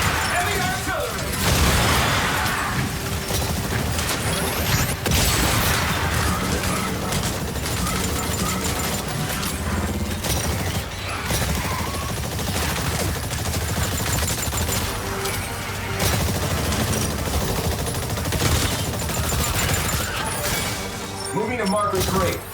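Heavy artillery and gunfire in the Exoprimal shooter game, a dense, loud, continuous barrage of rapid shots and booms with shattering impacts, overlaid by in-game voice callouts throughout.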